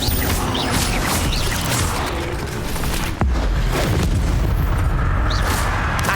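Spell combat in the video game Hogwarts Legacy, with an Incendio fire blast among a run of booming, crashing bursts and rumbling impacts, loud and continuous with a sharp hit midway.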